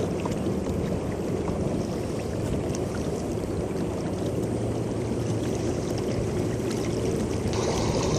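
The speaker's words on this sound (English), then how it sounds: "All you can hear is the water coming past." Water rushes steadily past a slow-moving boat on the Coomera River while its motor runs almost silently, a continuous close wash and gurgle with no talk.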